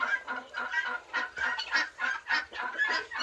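Domestic turkey hens and poults on nests in a farmyard make a steady run of close, rhythmic fowl calls, honks and chirps repeating about every quarter second, without any voices.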